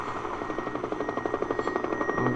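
Helicopter in the video game Half-Life 2, its rotor beating in a steady rapid pulse with a constant whine on top, close and loud, swelling slightly toward the end.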